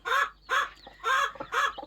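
Freshly hatched crested pheasant chicks, brooded by a hen, give four loud, clear peeping calls in an even rhythm close by, with faint softer cheeps between them.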